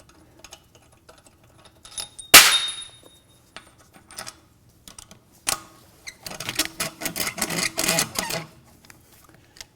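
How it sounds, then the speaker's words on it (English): A speed wrench snugging down the five lug bolts on a car wheel in a garage, heard as a loud sharp clank followed by bursts of rapid ratcheting clicks and metallic rattling, close by with no talk. "all I'm going to do with this speed wrench is just make sure all 5 of these lug bolts are tight"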